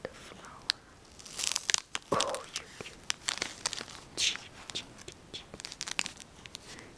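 A knife cuts into a hot nut-filled pastry, making crisp crackling and crunching crust sounds in short bursts, close and fairly quiet, with soft talking in between.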